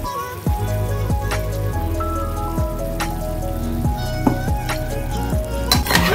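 Meat sizzles in its own released oil as cashew paste is added, a steady crackling fry with repeated scraping stirs of a spoon or spatula through the pan, close and continuous.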